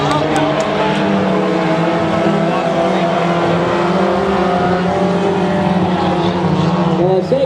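Race cars roar steadily around the Rocky Hill Speedway oval during a Super 4 main event, engines droning loud and continuous with layered pitches from several cars passing close together.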